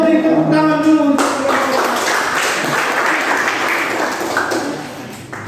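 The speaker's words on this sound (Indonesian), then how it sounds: "kita beri tepuk tangan dulu untuk" A class of students claps after a group presentation, a burst of hand clapping that follows a short ringing tone, then thins out slightly toward the end.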